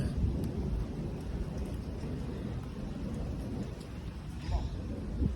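A heavy thunderstorm pours down rain in a continuous, dense wash of noise, with low rumbling throughout and a few louder swells near the end.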